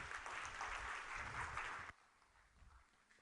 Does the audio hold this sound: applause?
yes